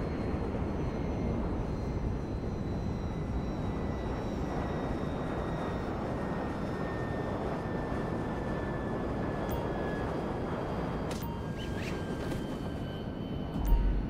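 Steady, loud engine drone from a helicopter and an airplane in GTA V, a continuous rumbling roar that holds evenly throughout, with a brief sharper bump right at the end.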